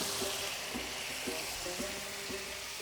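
Egg fried rice frying in a pan gives a steady, close sizzle with soft scraping touches recurring roughly every half second, as though the rice is being stirred or tossed.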